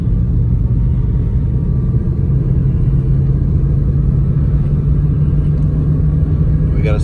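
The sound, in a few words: 1954 Studebaker Champion gasser engine, new exhaust, driving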